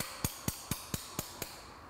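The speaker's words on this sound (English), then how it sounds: "it's gotta use my specialty hammer right here" A light-duty hammer taps a piston pin into place during a Vespa GTS Malossi cylinder kit install: six crisp, evenly spaced metallic taps about a quarter second apart, close and fairly loud with no voices.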